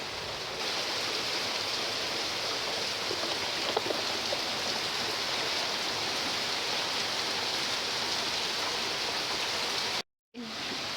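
Steady rain from a thunder shower hisses evenly and continuously for about ten seconds, then cuts off abruptly before briefly resuming.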